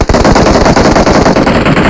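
Rapid, loud bursts of automatic gunfire in a battle royale video game match, close and continuous, with sharp repeated shots packed together and no talk over them.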